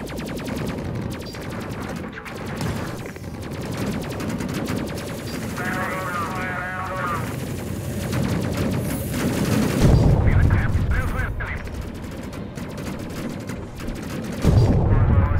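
Rapid gunfire in the Space Crew video game, dense bursts of shots and booms layered over music and game effects, with someone talking over the action throughout.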